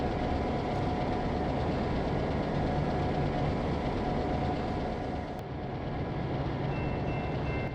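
F unit diesel locomotives rolling into a station onto track 2, a steady low engine rumble and rail noise that holds constant and loud throughout, with a faint metallic ring near the end.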